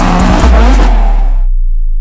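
A 650-horsepower Hoonigan RSRX Ford Focus rallycross car's engine revs hard and close, a loud, rising roar that cuts off abruptly about three-quarters of the way through, leaving silence.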